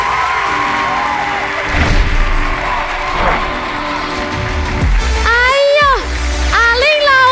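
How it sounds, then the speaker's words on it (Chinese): Studio audience at a talent show cheers and screams to welcome a singer: crowd roar and shouting build, then high-pitched screams rise sharply in bursts, with music swelling underneath. "马上掌声加尖叫，欢迎天生歌姬阿"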